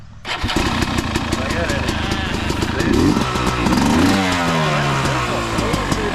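A 2022 Yamaha YZ250X two-stroke motorcycle with an added electric starter cranks briefly, then fires up and revs with a loud, raspy, buzzing engine note close by, with people talking over it.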